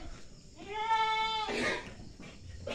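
A young Etawa Senduro goat, about four months old and of a breeding pair, lets out one clear, drawn-out harmonic bleat close by, followed by a short rustling scuffle and a quieter bleat-like sound.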